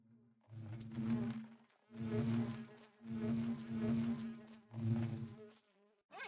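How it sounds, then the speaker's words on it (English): Bees buzzing in the Minecraft modpack ATM10, a steady droning hum in four long swells with short gaps between them, loud and close with no voices over it. "I don't think we need any of these bees anymore."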